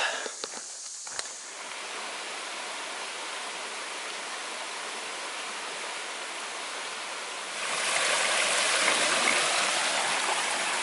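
Jack's River flows as a steady, close rush of stream water, a constant broad hiss that grows louder and brighter near the end, with no talking.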